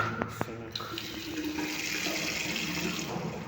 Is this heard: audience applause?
no